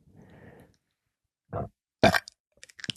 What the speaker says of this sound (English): That burp was for my ASMR crowd.